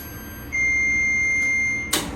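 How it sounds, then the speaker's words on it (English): A kitchen oven gives one long, steady electronic beep to signal it has finished preheating for baking cornbread, followed by a brief clatter at the end, with no talking. "Hey, my oven's telling me it's hot."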